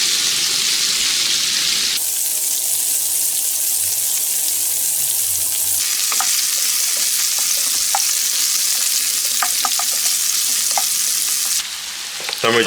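Okra (bhindi) sizzles steadily in a hot pan with turmeric while being stirred, a constant loud frying hiss punctuated by faint scraping and clinks of the spoon against the pan, with no talking.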